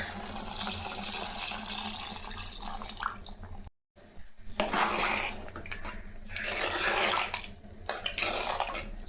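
Water pours and splashes into a pot of country chicken curry in a steady stream, briefly stopping, then gushing again with a bright, close, sizzling rush.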